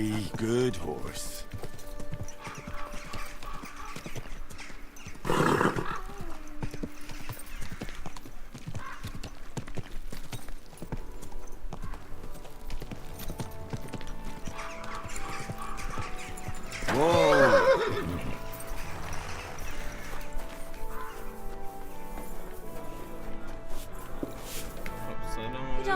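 In Kingdom Come: Deliverance 2, a horse whinnies twice amid steady clip-clopping hooves, with game characters talking and background music throughout.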